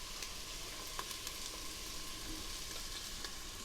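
Onions fry in a pan with a soft, steady sizzle and occasional small pops, close and fairly quiet with no talking.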